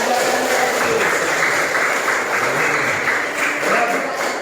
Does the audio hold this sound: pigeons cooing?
no